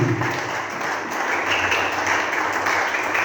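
A church congregation at a Sunday thanksgiving service applauds and cheers together, dense continuous clapping and crowd noise filling the room for a few seconds.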